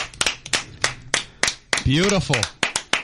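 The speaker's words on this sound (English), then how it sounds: "I'm still clapping, by the way." Hands clapping in a live radio studio, steady repeated claps near and loud, continuing under brief talk and a sustained voice in the middle.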